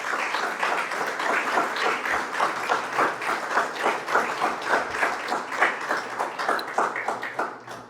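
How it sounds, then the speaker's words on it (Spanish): A church congregation claps together at a Spanish-language sermon, many hands falling into a quick, even rhythm that holds steady and fades at the end. "¿Por qué no aplauden al Señor?"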